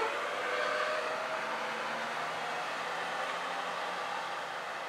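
A train at the Rákoshegy railway stop rumbles past in a steady, broad roar with a faint tonal whine, loud at first and easing a little toward the end.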